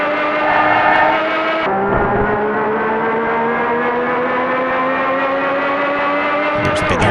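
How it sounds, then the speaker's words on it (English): Steady droning car engine noise from a SNES racing video game, a loud continuous synthesized whine that shifts pitch, with no talk over it. "Like these engine noises"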